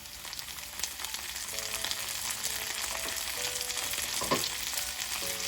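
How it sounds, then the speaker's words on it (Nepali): Garlic and ginger paste frying with browned onions for a chicken and radish curry, giving a steady, close sizzle throughout with a few faint stirring scrapes and no talk. "मैले यसमा राखेँ 1 ठुलो चम्चा लसुन र अदुवाको पेस्ट"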